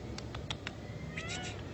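A cat meowing on a walk in Yucatán, Mexico: a few short, faint meows in a quick series, then a longer, higher mew near the end, over quiet outdoor background.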